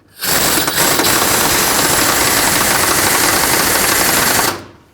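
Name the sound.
ratchet tightening cross member bolts on Ford F-250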